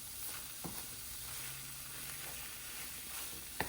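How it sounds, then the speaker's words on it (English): Mushroom pieces cook in a pan with a soft, steady sizzle throughout, broken by a couple of brief utensil taps near the start and end. "in go the rest of the mushroom pieces. I'm just going to let that cook together"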